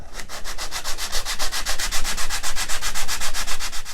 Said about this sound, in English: So I'm just using sandpaper, 120 grit, to take it down just a little bit.